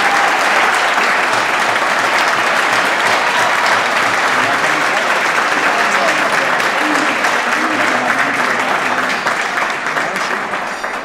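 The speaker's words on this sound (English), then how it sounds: "Let's have a big round of applause." A crowd at a scholar-athlete banquet gives a big round of applause, sustained, loud and even throughout, with a faint murmur of voices mixed into the clapping and a slight fade at the end.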